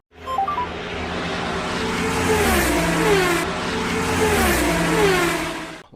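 A Formula 1 car races around the Gilles Villeneuve circuit in Montreal, its engine a loud, steady high-pitched whine that rises and falls through gear changes, with no voices.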